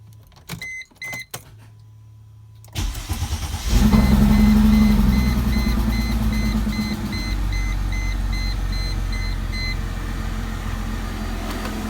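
A few clicks and a brief crank, then a Mercedes SLK 320 engine catches and settles into a steady idle that keeps running close by.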